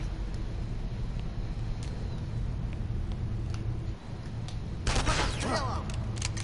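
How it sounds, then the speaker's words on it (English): Assault rifle shots ring out in the video game CounterSpy, a short cluster of sharp cracks near the end over a steady low game-ambience hum. "Time to use the assault rifle."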